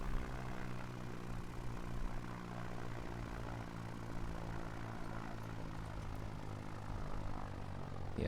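A taildragger airplane's propeller engine drones evenly as it taxis back to the hangar in X-Plane 11, a steady humming tone with layered low harmonics that holds at a constant level and has no talk over it.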